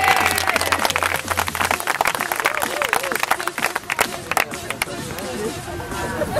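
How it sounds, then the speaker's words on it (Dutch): Applause for a youth football team at a tournament, a dense burst of loud clapping and cheering from a nearby crowd, with shouting voices mixed in. "Applaus voor jezelf."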